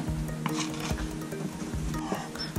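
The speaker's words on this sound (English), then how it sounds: "Now properly apply some lightweight spackling. Scrape off the excess." A blade scraping excess lightweight spackling off a patched wall hole, with repeated short close scraping strokes in an uneven rhythm and no talking.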